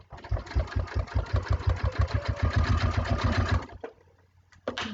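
A sewing machine runs for nearly four seconds in a fast, even stitching rhythm, close and fairly loud, then stops and leaves a brief quiet with a small clack at the end.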